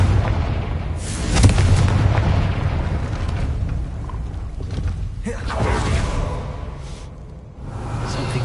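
A Confringo blasting spell from Hogwarts Legacy goes off with a loud booming blast and rumble, followed by creaking, grinding mechanical movement and further thuds as a gate area shifts.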